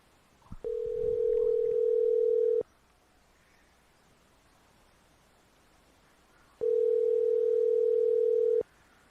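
A steady phone dial tone sounds twice, each a sustained two-second drone separated by a stretch of near silence, heard while ringing back a caller.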